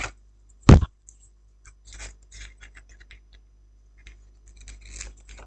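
Scissors snip once through a paper roll of sheet music, a single sharp close cut followed by faint rustling and handling of the paper.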